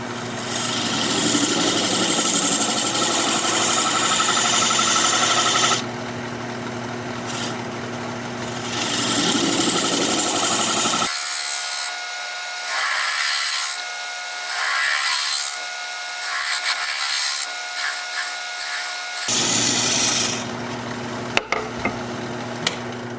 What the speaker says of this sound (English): I've switched to a 3/8 inch gouge to make that recess